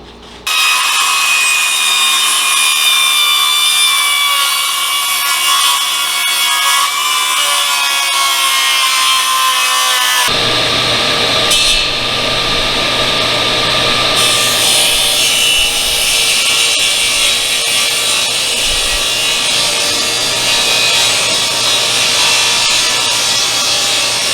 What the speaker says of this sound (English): I'm going to use this skill saw.